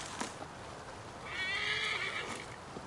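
A horse in the video game Assassin's Creed Valhalla gives a single whinny at moderate distance, fairly faint, with soft hoof clops and ambient noise around it.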